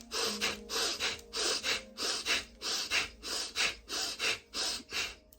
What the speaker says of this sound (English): So on that exhale, that snap, not only are you snapping your diaphragm, you're calling your arms back into your body.